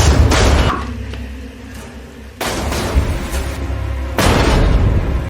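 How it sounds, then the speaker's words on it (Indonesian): A film explosion in a dining hall lands as several heavy booms, the deep roar swelling, easing off, then striking again twice in quick succession, loud and close. "Ledakan pun terjadi di aula makan itu."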